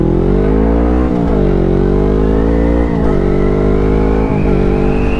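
Motorcycles rev at a bike night in Orlando, Central Florida, in 2021, with one loud, close engine droning continuously and its pitch climbing and dropping back through several gear shifts.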